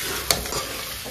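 Pork pieces frying in a pan over a low gas flame, stirred once with a sharp scrape of the utensil against the pan over a steady soft sizzle. The sizzle is close and fairly quiet throughout.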